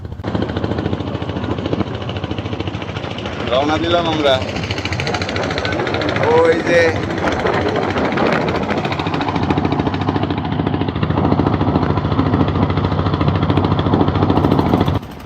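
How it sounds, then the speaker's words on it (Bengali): A trawler's engine chugs steadily as the boat sets off upriver on the Padma, a loud continuous mechanical thrum running throughout while people talk over it. "আনুভাই ট্রলারের ইঞ্জিন চালু করলেন"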